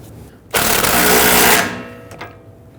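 A power tool, likely an impact wrench, tightens a rear sway bar end link on a 2010-2019 Ford Taurus during a lower control arm job. It gives one loud, close, rattling burst of about a second, then falls back to quiet garage room tone.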